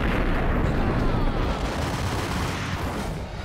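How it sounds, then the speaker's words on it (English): A door blown open by an explosion in the video game Max Payne, a loud, heavy roaring blast that rumbles on and slowly fades over several seconds. "he's gonna blow up the door."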